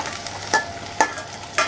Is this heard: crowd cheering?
no